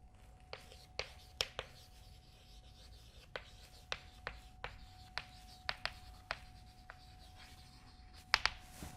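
Chalk or marker drawing a function curve on a board during a maths lecture: quiet scratchy strokes and short taps in an irregular rhythm over a faint steady hum, with no one talking.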